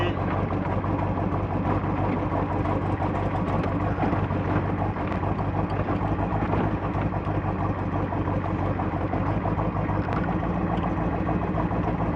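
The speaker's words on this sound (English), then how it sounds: "Idling perfectly." A car engine idles with a steady low rumble, constant and unbroken throughout, heard from close by.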